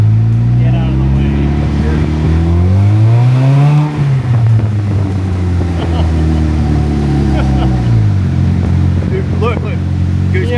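DF Goblin car engine revving at low throttle, about 10% throttle, at a car meet in Dallas. A loud, close engine note climbs and falls in two swells, with people talking over it.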